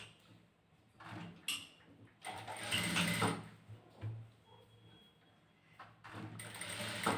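Sewing machine stitching the back neck of a blouse, with short mechanical whirring runs that start and stop between quieter pauses and swell loudest in the middle.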